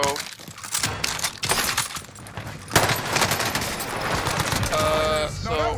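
Call of Duty Warzone gunfire rattles in repeated bursts and single cracks, mixed with game noise and a faint voice, with a metallic ringing tone near the end.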